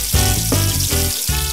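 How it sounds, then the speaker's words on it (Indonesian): Salted jambal fish frying in hot oil until crispy sizzles steadily and loudly, a continuous crackling hiss with soft bursts and pops throughout. "Jambalnya kita goreng dulu ya sampai garing."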